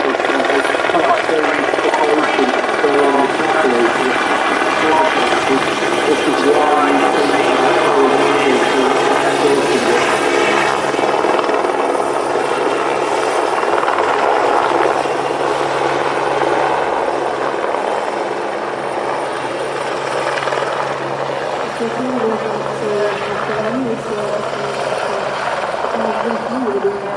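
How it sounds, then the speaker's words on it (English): Helicopter at Manchester Airport working the runway, its steady rotor and engine roar loud and continuous throughout, dipping slightly toward the end with faint chatter beneath. "the helicopters actually use the runway to land and depart"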